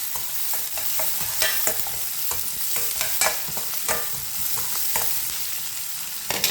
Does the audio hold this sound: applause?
no